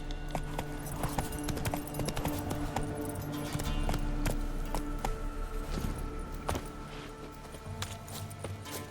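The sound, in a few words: horse clip-clop hooves in the video game The Witcher 3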